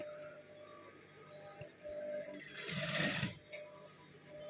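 A sewing machine stitches a lined blouse with piping, sounding as one close, loud whirring burst of about a second in a quiet room.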